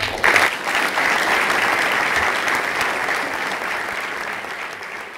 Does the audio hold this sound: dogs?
no